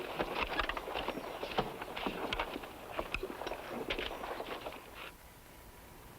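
A horse's soft, irregular clip-clopping hooves move at a walking pace in a Western film, fairly quiet and a little distant, then fade away toward the end.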